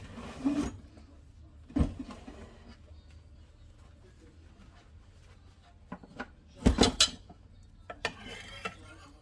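Cooked crockpot chicken scooped into a dish with a utensil: a few sharp clinks and scrapes of metal against ceramic in scattered bursts, with quiet pauses between them and a short cluster of knocks near the end.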